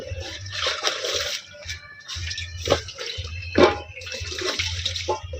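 Leaves, likely banana leaves, rinsed under running water, with splashing, trickling and dripping in uneven bursts up close, broken by short pauses.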